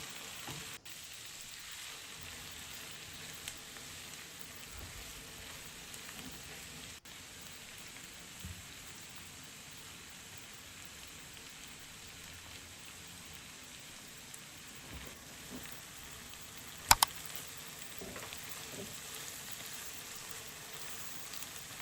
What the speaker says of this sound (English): Time to add 2 handfuls of baby spinach and let it cook until it softens.